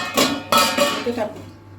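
A metal lid goes onto a cooking pot of Bengali-style prawn, pumpkin and potato curry, giving a few close clanks and rattles spread over a second or so.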